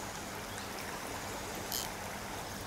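Broadband rushing of a river running at a fair pace, steady and continuous with no voices, a faint brief splash or rustle partway through.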